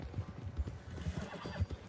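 Horse hooves from the video game Red Dead Redemption 2 make a quick, faint clip-clop of steady trotting steps, with a brief whinny-like tone in the background and no talk.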